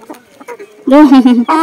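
Hens cluck softly at first, then one bursts into a loud, drawn-out squawking cackle up close, with a quiet voice in the background.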